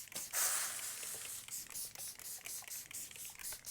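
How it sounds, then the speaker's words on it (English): Repeated soft hissing spritzes from a spray bottle misting water onto foam, a quick steady series of short mists, close and fairly quiet. "then we get our spray bottle, and then we spray it really nicely."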